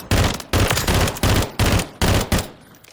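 An AN-23 rifle fitted with a Russian night vision optic fires in burst mode in Call of Duty Modern Warfare III, giving six loud, close, evenly spaced shots, each with a short sharp tail, before fading out.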